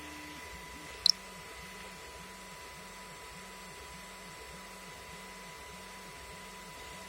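A 3D printer printing: a steady mechanical hum with a rhythmic, repeating motor whir pulsing about once per half second, plus a single sharp click early on.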